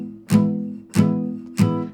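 Three palm-muted strums on an acoustic guitar, the strings damped by a hand laid near the bridge, each a sharp attack fading to a short, dull low ring, evenly spaced and close.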